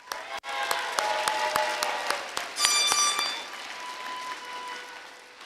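Steady applause from a high school graduation crowd honouring faculty and teachers, with sustained clapping in a large hall and a few louder sharp claps standing out, plus faint tonal sounds in the background.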